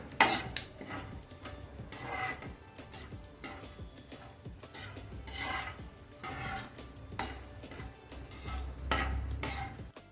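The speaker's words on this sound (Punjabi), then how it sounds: "ਇੱਥੇ ਮੈਂ ਮੋਫਲੀ ਦੀਆਂ ਗਿਰੀਆਂ ਨੂੰ ਤਲ ਲਵਾਂਗੇ" Peanut kernels frying in a pan for bhujiya, with steady scraping and rasping strokes of stirring that come in repeated bursts, close and moderately loud, with no talk.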